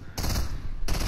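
Video-game gunfire aimed at a falling supply drop: two short bursts of rapid automatic shots, close and fairly quiet, separated by a brief gap.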